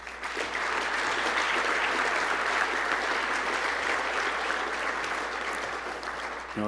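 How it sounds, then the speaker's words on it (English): A crowd claps steadily in sustained applause, dense and even throughout, fading slightly toward the end. "So I want to give them a round of applause."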